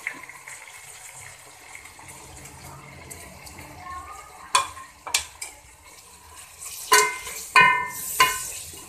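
Onions, tomatoes, salt, chili and garlic paste frying in oil in a pan for aloo gobi chicken, a soft sizzle under sharp scraping stirs and clacks of a spoon that grow busier toward the end.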